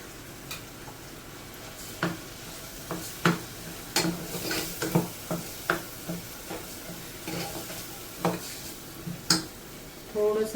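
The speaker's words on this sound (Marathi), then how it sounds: "थोडंसं तेलात परतून घ्यायचं" An onion and coconut paste fries in a little oil for a chickpea curry, a soft background sizzle broken by irregular clinks and scrapes of a spoon against the pan, no talking.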